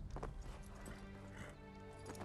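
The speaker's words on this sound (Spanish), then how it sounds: "Ha elegido llamar a tu caballo Sora." A horse in the video game Ghost of Tsushima whinnies and its hooves clip-clop in a steady rhythm, close by and moderately loud, with game background sound underneath.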